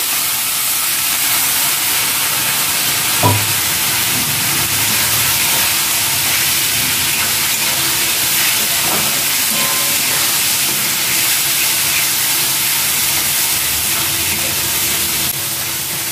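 A steady, loud hiss of steam and sizzle from a hot pot of biryani after a little water is poured in, continuing evenly throughout with a couple of faint clinks.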